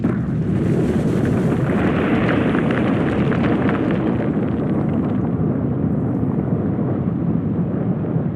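A volcanic eruption near the Galapagos Islands, a loud continuous roaring rumble of explosive blasts. The sound is heavy and sustained with wind buffeting across it, and the brighter upper hiss thins out during the last few seconds.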